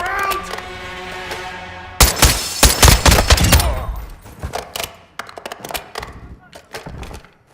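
Dense bursts of automatic gunfire and heavy impacts in Call of Duty Warzone 3 DMZ, a sniper match on the Vondel map. The fire crashes in loud and near after a quieter start, then thins into scattered, sharp shots.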